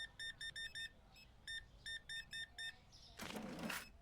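Short electronic chirps, like a fire alarm's low-battery warning, sound indoors in quick repeated bursts of high beeps in two groups, followed by a brief burst of broadband noise.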